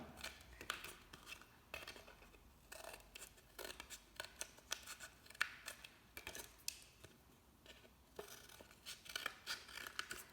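Scissors snip a triangle out of paper, producing a quiet series of irregular crisp cuts and rustles, close and alone with no talking.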